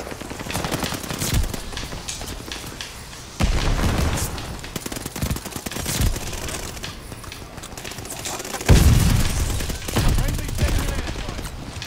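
Rapid gunfire from an online shooter match, with bursts of loud automatic fire and heavy booming impacts recurring across the stretch over continuous in-game noise, while a voice speaks along with the game.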